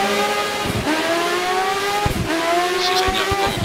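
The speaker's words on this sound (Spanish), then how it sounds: "cómo suenan estos coches" Formula 1 race cars in the F1 2013 racing game scream past at high revs, the engine tones sweeping and shifting through gears with bursts of tire squeal, loud and continuous with no talk.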